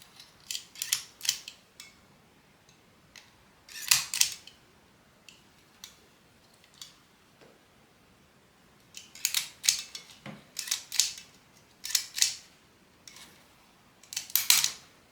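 A Sun mini hand sewing machine stitches cloth, giving bursts of sharp mechanical clicks and clacks, like a stapler, in irregular clusters with short pauses between, close and moderately loud with no talking.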